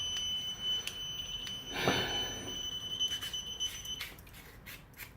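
A faulting probe alarm sounds as faint, high-pitched steady tones with a few short pulses, over low background rumble and a brief louder noise.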